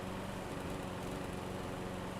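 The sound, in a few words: lawn tractor engine running in video game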